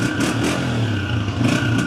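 A 2018 Honda 125 motorcycle idles while parked on its stand, a steady close engine drone with a low, even throb and no revving.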